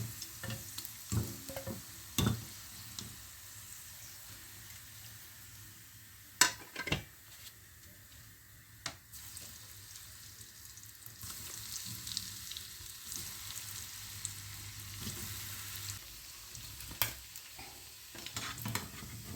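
Chicken browning in a frying pan gives a low, steady sizzle throughout, broken by occasional sharp clinks and scrapes of stirring.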